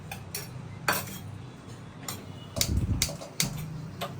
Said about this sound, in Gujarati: ચાલો શેકી નાખીએ અલસી.